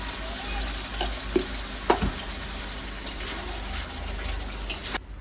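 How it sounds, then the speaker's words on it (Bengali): Ginger paste and spices frying in oil for chicken biryani, a steady close sizzle with a few stirring clinks and scrapes, ending with a brief splash as water is added. "আর একটু কষিয়ে নিয়ে এই যে আদা বেটেছিলাম এটা ধুয়ে একটু জলটা দিয়ে নেবো"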